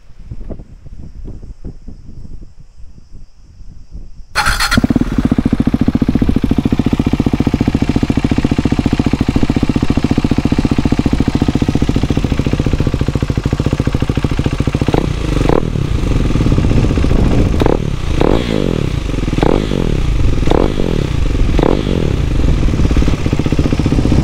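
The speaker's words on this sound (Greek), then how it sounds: "είναι ότι πατάς μια φορά τη μίζα και μπαίνει μπροστά" A new KTM motorcycle starts on a single press of the starter, its engine catching abruptly and settling into a steady, loud running note close by, with a few throttle blips toward the end.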